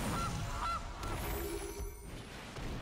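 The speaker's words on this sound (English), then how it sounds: "But they found a goose, give them more food." A goose honks in Magic: The Gathering Arena, two short honks early on under a dense, constant layer of game music and ambience, with no talking.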